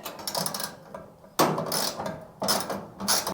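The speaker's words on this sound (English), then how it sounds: "we're just gonna remove this bolt here" A wrench ratchets a bolt loose from the heating element housing of a clothes dryer that has stopped drying, giving close, repeated metallic clicking strokes in several short bursts.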